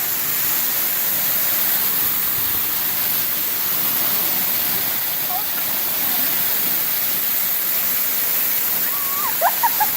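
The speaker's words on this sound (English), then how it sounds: "Touch the waterfall." Moore Cove Falls pours as a steady, loud broadband rush of falling water close by, with faint voices and a brief exclamation near the end.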